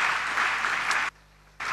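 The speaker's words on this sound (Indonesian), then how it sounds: "Beri tepuk tangan bagi Tuhan." Church congregation applauding during an online Bible study recording from 2007, a steady broad wash of clapping that cuts off abruptly into near-silence before resuming.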